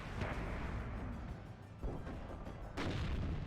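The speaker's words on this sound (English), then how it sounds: "BMP-1 does manage to fire on them, though." A BMP-1 infantry fighting vehicle fires in the Cold War strategy game WARNO, with a few muffled gun bursts, one near the start and another later, amid constant battle rumble, all fairly quiet.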